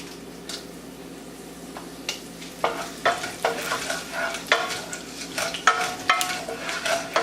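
Cumin seeds, a pinch of fenugreek seeds and two dry red chilies frying in oil for sambar, a low sizzle under rhythmic spoon stirring and scraping in the pan that grows louder partway through.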